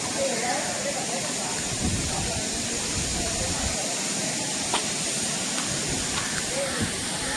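Savdav waterfall near Kankavli with water flowing down toward it, a steady broadband rushing wash that holds constant throughout, with a few faint scattered ticks over the top.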